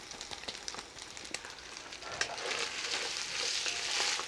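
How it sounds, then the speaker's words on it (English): White wine hits a hot pan with cooked ingredients and dried oregano, deglazing it with a brief hiss. The hiss then swells into a steady, fairly loud sizzle and crackle that holds near and alone, with scattered clicks at the start. "I put a little bit of white wine just to deglaze everything, to add some acidity and some flavor"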